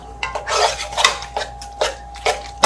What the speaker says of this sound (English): Mix that paste in there